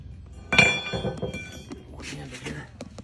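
A greasy metal part of an ApexClip snaps into place during setup, giving one sharp, close metallic click followed by softer clinks and handling noises, with a voice talking in the background.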